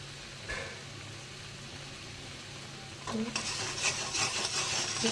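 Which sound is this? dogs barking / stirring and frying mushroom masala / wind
stirring and frying mushroom masala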